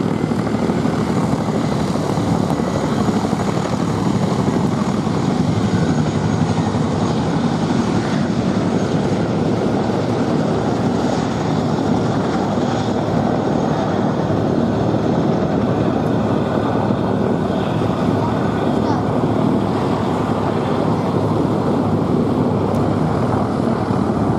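A Royal Air Force Chinook twin-rotor helicopter lifts off rearwards at an air display, its steady loud rotor and engine roar holding at close range throughout with no voices over it.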